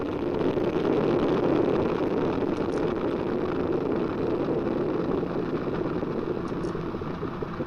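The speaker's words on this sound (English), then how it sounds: "All 4 RS-25 engines on the core stage and 2 solid rocket boosters now propelling the vehicle at 128 miles per hour" Artemis 1 rocket at liftoff, its four RS-25 core stage engines and two solid rocket boosters firing: a continuous, loud, broadband roar with a heavy low rumble, steady throughout and without speech.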